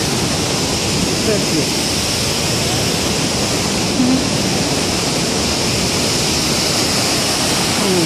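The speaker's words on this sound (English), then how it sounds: "This is a real river." Steady broadband rush of a real river flowing past a horizontal-wheel grain mill, continuous and close, with a brief spoken phrase near the middle.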